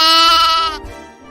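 A single loud, close sheep bleat with a wavering, nasal tone, fading off quickly at the end.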